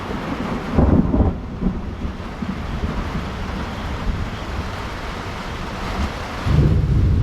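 Heavy rain pounds a tent at a cold mountain campsite in Benguet, with wind buffeting the microphone and low thunder-like rumbles swelling near the start and again at the end.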